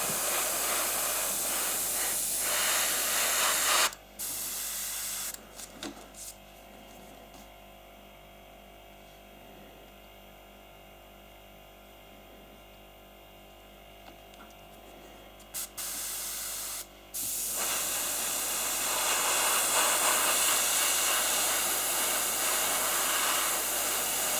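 Steady airbrush hiss spraying acrylic paint from a close nozzle, starting and stopping in bursts with short pauses between passes, no voices.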